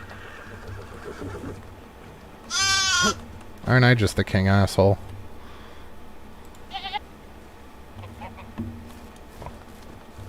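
Sheep bleating in the video game Medieval Dynasty, one wavering bleat followed by a longer louder burst of bleats close by, then a short faint bleat later, with someone talking over the game sounds.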